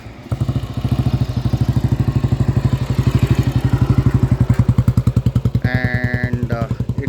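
A 1972 Royal Enfield cast iron motorcycle engine runs loud and close, a steady rapid thumping beat with slight clatter, briefly joined near the end by a higher tonal whine.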